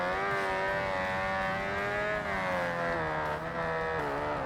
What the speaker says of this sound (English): It's like a swarm of angry hornets just coming out of the exhaust.